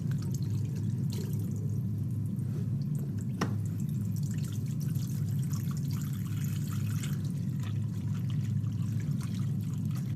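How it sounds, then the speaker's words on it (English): Water runs steadily at a sink while hands are washed before a medical examination, a constant close rush with one brief clink partway through. "Now I would go and wash my hands and be back soon."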